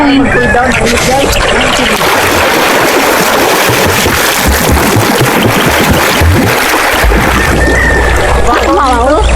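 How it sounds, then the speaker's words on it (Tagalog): Strong river current rushing from an open dam, loud continuous splashing and sloshing water close by, with people talking and shouting over it throughout. "Malakas na nga agos talaga bukas ang dam."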